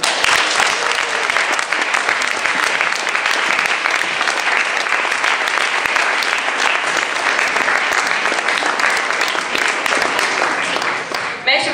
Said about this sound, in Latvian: Ar skaļiem aplausiem aicināsim Alīnu,